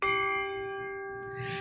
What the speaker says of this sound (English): Big gong coming your way.